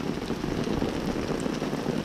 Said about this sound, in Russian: Град идет.